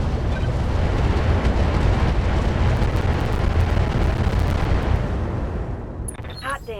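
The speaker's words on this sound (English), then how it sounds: "Firing a full salvo." A heavy mech in the game Roguetech unleashes a full weapons salvo, a loud, sustained rumbling roar of blasts and explosions that fades near the end, with a voice speaking over the tail.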